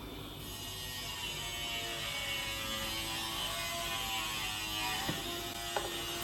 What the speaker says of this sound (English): My husband is grinding outside.